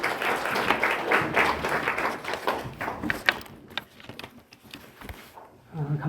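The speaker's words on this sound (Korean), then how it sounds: "하나님께 영광의 박수." A congregation at a church lecture gives a round of applause, a dense patter of clapping that fades out midway, followed by a short voice near the end.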